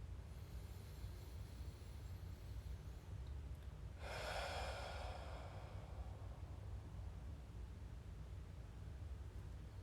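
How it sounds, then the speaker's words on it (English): Slow, deliberate yoga breathing during a gentle morning meditation, with one clear audible breath out midway, soft and close over a faint steady background hum. "Fully in, out. Breathe in."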